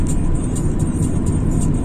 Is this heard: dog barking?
no